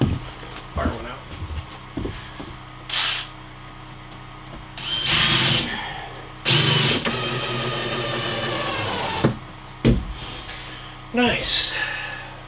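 A power drill drives screws into wood in a cabin, with several loud whirring bursts of a second or two separated by pauses, up close, with sounds of handling and movement in between.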